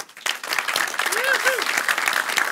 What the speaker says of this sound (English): Please give our explorers of this journey warm applause.